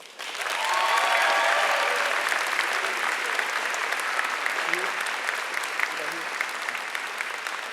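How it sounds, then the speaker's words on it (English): Sustained audience applause at a high school senior awards ceremony, swelling after a soft start and holding steady, with a brief voice and some whoops mixed in early. "we did recognize her and give her a round of applause"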